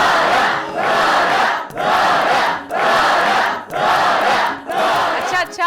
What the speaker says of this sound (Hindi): बस कर दो तालियां